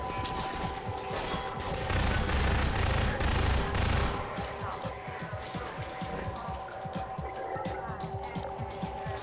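Submachine gun fire in a video game, a series of rapid bursts over game sound effects, with a voice talking over parts of it.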